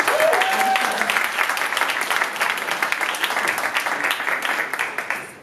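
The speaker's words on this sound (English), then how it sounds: "If you could give him a round of applause." An audience at a student association candidate event breaks into a sustained round of applause, dense and steady clapping filling the room before tapering off at the end.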